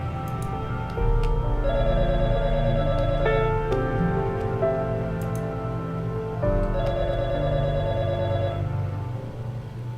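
An in-game telephone rings in the narrative game Fragments of Him, its repeating electronic trill sounding over a steady ambient music bed for most of the stretch, with no one speaking.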